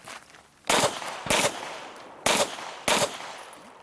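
Four sharp pistol shots at an IDPA shooting match, fired as two quick pairs about a second and a half apart, loud and close, with no talk.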